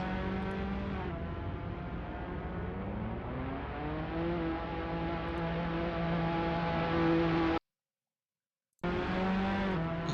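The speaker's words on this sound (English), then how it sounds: "it looks like cars are starting to roll their way out onto the racetrack now" Formula racing cars in a racing video game at Circuit Gilles Villeneuve, rolling out onto the track with layered engine whines rising and falling in pitch, then a short silent gap before the engines resume.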